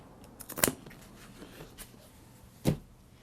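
Scissors snip through thin scrap vinyl material in two sharp close cuts, separated by a couple of seconds, with quiet handling noise between them.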